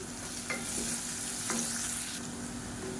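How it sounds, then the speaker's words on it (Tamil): Chopped onions sautéing with salt in a pan: a steady, close sizzle with a few soft stirring scrapes, no voices. "வெங்காயம் வதங்குறதுக்கு உப்பு சேர்த்துக்கலாம்"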